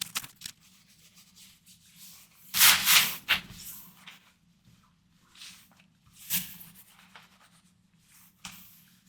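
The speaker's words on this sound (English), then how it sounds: "Use a soft cloth and rub off the excess." A soft cloth rubs excess finish off a leather fedora pattern piece in scattered bursts of dry scuffing, some brief and a few longer and louder, with quiet gaps between; close by, no talking.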